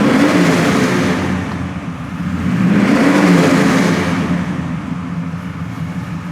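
A 1965 Chevelle restomod with a 383 stroker engine and dual exhaust revs in a deep, throaty rumble, swelling and easing in two broad waves, loud and close with no talking.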